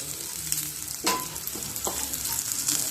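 Tempering spices sizzle in hot oil in a pan, a close steady frying hiss with a few sharp spits and scrapes, and nobody speaking.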